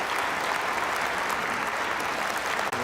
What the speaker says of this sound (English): Let us give another round of applause